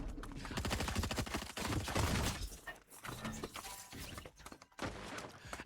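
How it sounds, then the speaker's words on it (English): Rapid gunfire in the Fortnite video game: dense bursts of automatic shots rattle almost without pause for several seconds, with brief gaps and a few heavier impacts, loud and close. "Oh my God, there's gunshots already."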